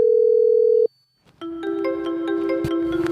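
On an outgoing phone call, a steady electronic tone cuts off, and after a short silence a melodic ringback tune starts with bright repeating notes that carry on to the end.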